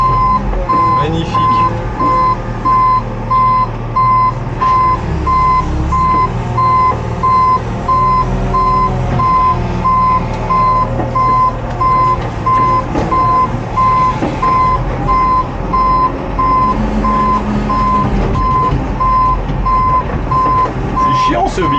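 Telehandler collecting straw bales, its reversing alarm beeping in a steady, relentless pulse over the loud engine drone heard from the cab, with some scattered clunks throughout.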